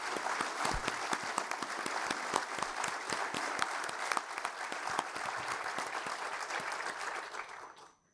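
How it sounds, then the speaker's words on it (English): Students at a university convocation ceremony applaud to welcome the chief guest: a dense, continuous wash of clapping from a large audience, fairly distant, that runs steadily for about eight seconds before stopping abruptly. "Students, let us welcome the chief guest with a huge round of applause."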